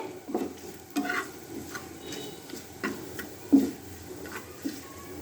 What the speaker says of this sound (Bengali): এখন ভালো করে এই মশলাগুলো ভাজতে হবে একদম লো হিটে ভাজবেন না হলে কিন্তু মশলাগুলা পুড়ে যেতে পারে